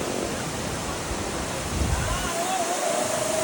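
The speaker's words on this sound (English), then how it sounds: "So we finally reached the waterfalls." Drung waterfall at Gulmarg, partly frozen in December, giving a steady broad rush of falling water, loud and close, with wind noise buffeting the microphone.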